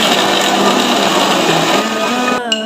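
Electric grinder whirring steadily as it pulverizes dried tomato into powder, a loud continuous motor drone with rattling contents that cuts off abruptly near the end, followed by a brief spin-down.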